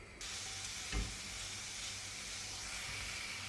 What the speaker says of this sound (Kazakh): Салмасы ет болғандықтан мен бәрібір бір қуырып алам